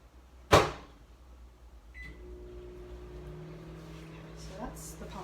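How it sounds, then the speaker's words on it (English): A microwave oven heating pasta gives a sharp thump near the start, then a short beep, followed by a steady low electrical hum that runs close and continuous to the end. "I'm gonna pop this in the microwave for like a minute probably."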